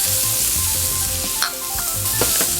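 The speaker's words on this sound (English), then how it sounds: "we're going to put a little bit of oil into our preheated skillet" Celery sautéing in oil and butter in a preheated skillet gives a steady, close sizzle, with occasional light scrapes and clinks as it is stirred.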